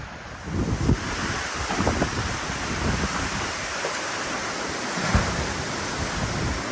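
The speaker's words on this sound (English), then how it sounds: "it's a little windy out here." Strong wind blowing outdoors during Hurricane Idalia, a loud continuous roar with gusts buffeting the microphone and no speech.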